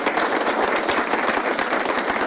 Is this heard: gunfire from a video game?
no